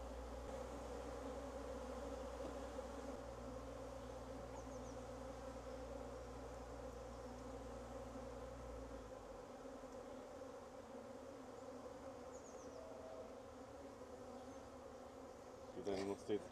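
Honey bees buzz softly and continuously while a beekeeper handles them. A low hum underlies the first half, and a few light handling clicks come near the end.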